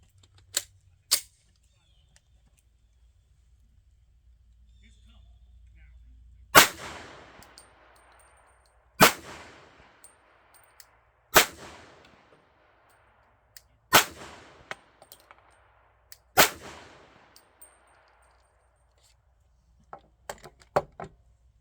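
A Glock 32 pistol fires 1776 brand 9mm and 40 S&W ammunition: sharp, loud shots spaced a few seconds apart, each ringing briefly, with quieter clicks and handling noises near the end.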